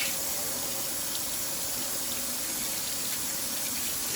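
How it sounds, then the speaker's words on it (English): Canned black beans rinsed under a running kitchen tap, a steady close gush of water splashing through a strainer without pause. "I'm gonna just strain this juice off of them and rinse them really good"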